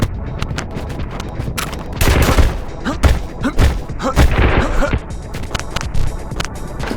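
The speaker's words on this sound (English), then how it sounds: "Someone is mag dumping somewhere" In the horror theme-park shooter Urge, someone dumps a magazine nearby, firing loud, rapid runs of gunshots, with sharp cracks and heavy thumps in uneven clusters.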